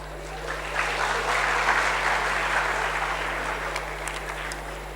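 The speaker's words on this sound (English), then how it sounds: "A huge round of applause for ma'am, please" An audience applauds a speaker at a conference event, a steady wash of many hands clapping together, dense and fairly loud, swelling early and then holding before slowly easing off.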